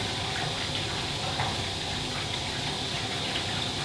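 Cold water tap running steadily for an aquarium water change, a continuous, even rush of flowing water from start to finish with no voices.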